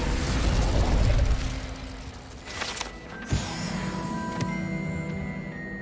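Incendio fire spell cast in Hogwarts Legacy, a loud broadband whoosh and rumble that swells early, then fades into a sharp burst and crackling game effects.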